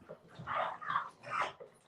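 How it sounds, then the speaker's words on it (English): Dogs bark indoors in several quick, fairly close yips and woofs, an excited burst of about four barks. "the dogs are getting nuts again."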